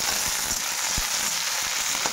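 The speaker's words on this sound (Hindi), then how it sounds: "शिमला मिर्च भून रहे हैं" Capsicum fries in a pan for kadai paneer, giving a bright, dense, continuous sizzle with occasional soft knocks and crackles close by.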